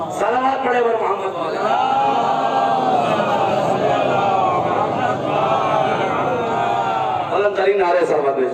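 A crowd chants salawat loudly in unison at a majlis, one sustained mass of massed voices that swells for several seconds and then fades out.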